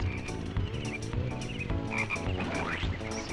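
Cartoon frogs croak repeatedly in a kart racing video game, a steady run of short croaks over constant game music and engine noise, fairly loud and continuous.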